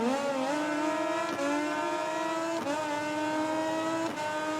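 MotoGP motorcycle engines from the MotoGP 20 video game revving hard at a race start in Italy, a loud, sustained high-pitched engine whine that climbs and drops with gear changes several times.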